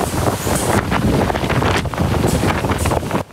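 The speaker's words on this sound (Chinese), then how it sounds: "空荡荡的马路上，强风夹杂雨势，像是海浪般一波波袭来" Typhoon Saola's strong wind roars through empty Hong Kong streets at night in heavy, surging gusts that buffet the microphone loudly, with no voices, and drop away abruptly at the end.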